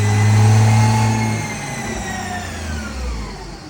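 A tuned car with a faulty boost reading cruises under boost, its engine droning loud and close, then easing off as the pitch drops before a brief swell near the end.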